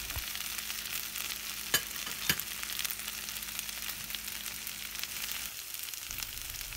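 Raw banana green curry cooking over a medium flame gives a steady soft sizzle throughout, with a couple of sharp stirring clicks and a brief drop in the low hum near the end, and no voices.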